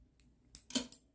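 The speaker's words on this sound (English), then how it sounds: "I'm going to cut my yarn" Scissors snip through crochet yarn in a couple of quick, close, quiet cuts, isolated and without speech.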